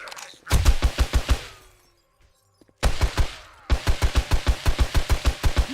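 Rapid bursts of gunfire from a weapon in the video game 7 Days to Die, loud and close, two volleys of evenly spaced shots separated by a short silent pause.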